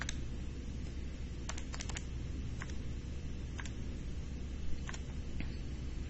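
Numbers tapped out on a calculator keypad: scattered, quiet plastic key clicks in small irregular bursts over a faint steady background hum.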